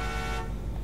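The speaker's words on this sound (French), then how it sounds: "Donc ça, c'est klaxon." A car horn sounds in Final Fantasy 15, one steady, loud, buzzy tone held for under half a second over a low engine hum, then cut off.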